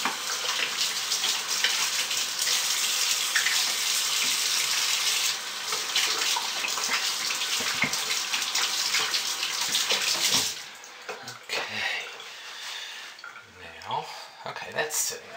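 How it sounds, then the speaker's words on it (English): A hand is washed under a running tap, with a strong, steady rush of water that cuts off near the end and leaves brief splashes and drips. "let me wash my hand quickly"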